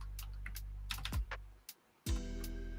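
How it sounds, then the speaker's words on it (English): Scattered keystrokes clatter on a computer keyboard, a few quick taps then a pause before a steady hum returns, close and fairly clear with no voices. "I've been doing a lot of typing."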